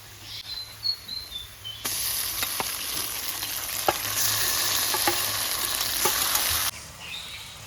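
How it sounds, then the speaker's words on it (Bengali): Small fish coated in spice paste frying in a pan with reddened onions, a loud hissing sizzle that bursts in partway and then cuts off, with faint bird chirps in the background and no talk. "মশলা সহ 2 মিনিটের মতন মাছটাকে ভেজে নেব"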